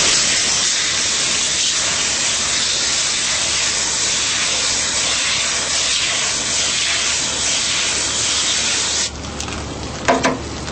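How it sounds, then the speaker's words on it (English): A garden hose sprays water in a steady, broad hiss as it rinses foamed cleaner off an air conditioner evaporator coil, continuous and close, ending with a few faint clicks and knocks as the flow stops. "what we can do now is rinse it off with a hose"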